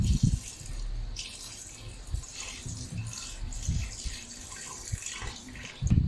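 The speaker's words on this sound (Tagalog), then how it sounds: "Dagdagan ko pa siya ng tubig." Water poured into a cooking pot of Spanish-style milkfish, a soft splashing pour with a few louder bursts near the start and end, close by and without talk.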